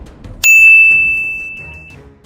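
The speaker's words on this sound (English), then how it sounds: "hit that notification bell so you don't miss the next chapter of history" Notification bell ding: one bright, close metallic chime that rings out and slowly decays over about two seconds.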